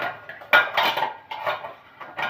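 Plates and dishes clink and clatter in short bursts as a plate is pulled from a stack in a home kitchen, close and fairly clear with no talk.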